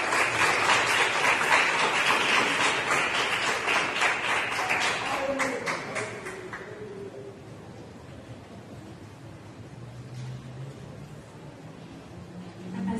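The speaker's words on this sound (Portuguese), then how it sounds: "As palmas ao Senhor." Church congregation applauds at a worship service, a strong burst of clapping that fills the first half, then fades out around the middle, leaving quieter room noise and murmur.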